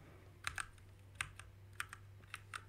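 Scattered keystrokes on a computer keyboard while typing a command into the Windows Run box: quiet, irregular clusters of crisp clicks with short pauses between, heard alone over a low steady hum.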